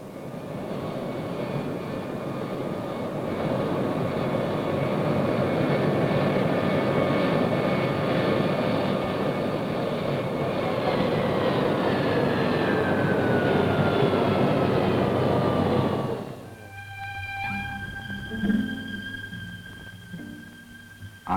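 Large airliner, a TWA jet touching down at Geneva airport, roars loud and steady for about sixteen seconds with a slowly falling whine, then cuts off abruptly to a quieter rumble and faint tonal hum.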